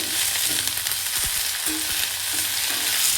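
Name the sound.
capsicum and curry leaves sizzling while frying with onion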